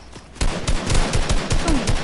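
Rapid gunfire from other players in a squad-based shooter game, a loud, close burst of repeated automatic shots cracking in quick succession for about two seconds.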